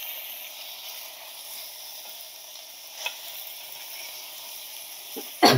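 Asafoetida dropped into hot oil for sambar, cooked in a pressure cooker, gives a steady close sizzle while being stirred, with a few sharp utensil scrapes near the end.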